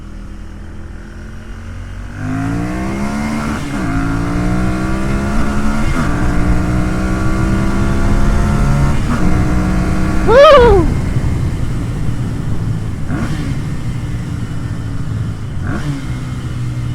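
A 2011 Ducati Monster 796 motorcycle engine revs and drones continuously in a tunnel, its pitch rising in repeated sweeps and echoing, with a brief shout near the middle.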